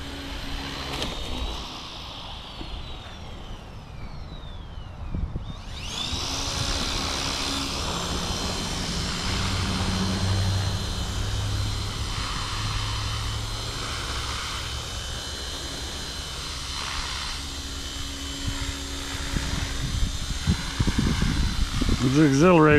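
An Align T-Rex 450 RC helicopter flies outdoors in a backyard, its high-pitched rotor and motor whine steady and fairly close for most of the stretch, with wind and people talking over it.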